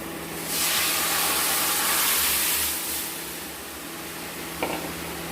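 Lentil dal poured into a hot pan gives a loud burst of steamy hissing that swells for a couple of seconds, then fades to a quieter simmer, ending with a short metallic clink.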